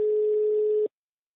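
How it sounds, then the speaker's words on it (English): One foreign telephone ringtone heard on a call, a steady single-pitched electronic tone lasting under a second, then silence. "We get that somewhat exciting foreign ringtone, which is always a nice feeling thing when you ring someone up."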